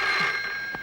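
A telephone rings, a brief bright electronic trill at moderate volume that fades near the end, heard alone without anyone speaking.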